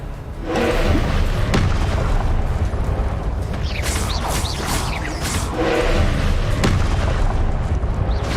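In Hogwarts Legacy, the Confringo blasting curse sets off a string of heavy booms and rumbling explosions layered over continuous battle noise, loud and close.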